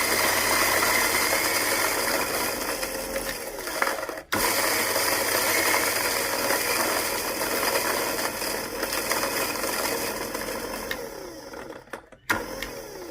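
A manual coffee grinder labors through robusta beans with a continuous close grinding and ratcheting crunch, briefly interrupted twice as the crank pauses, with no voices.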